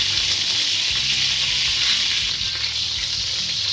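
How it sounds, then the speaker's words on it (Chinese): A crucian carp stuffed with pork, just flipped in the pan, fries with a loud, steady sizzle and crackle that holds close and constant throughout. "如果可以的话你就试着翻面了，轻轻的把它朝这边推一下，翻过去了"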